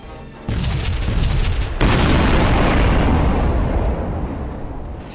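Ordnance fired in the space game Sunrider detonates in a loud, booming explosion: a sudden onset, a second heavier surge, then a long sustained rumble that slowly fades, with no voices.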